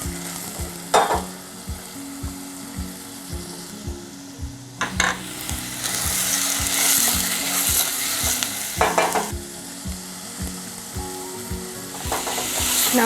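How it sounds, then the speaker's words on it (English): Onions sizzle and fry steadily in hot oil in a pan, with intermittent stirring scrapes and clatters over the continuous crackle, close and fairly loud. "you wait to hear the sizzle."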